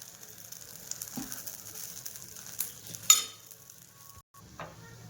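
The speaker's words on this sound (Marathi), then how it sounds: "फोल्ड करून घेतली चपाती. छान दोन्ही साईडने भाजून घ्यायचं आहे आपल्याला." A folded chapati egg roll crisping in a hot pan gives a soft, steady sizzle with occasional scraping and stirring clicks, fairly quiet and without talk.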